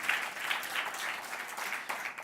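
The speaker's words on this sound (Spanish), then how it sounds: "dale un buen aplauso al Señor en esta hora" A church congregation applauds during a service, a steady wash of many hands clapping together, moderately loud and continuous throughout.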